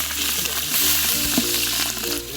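Mustard seeds and green chilies frying in hot oil give a loud, close, steady crackling sizzle with dense popping that runs the whole time, with no voices.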